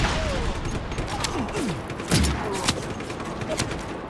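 Gunfire pops in Just Cause 3, with scattered shots and a few heavier thumps over a dense, steady bed of game noise and whistling effects.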